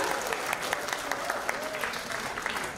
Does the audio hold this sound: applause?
yes